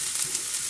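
Onion hitting a hot steel pan, a close, steady, bright sizzle filling the short moment with no voices.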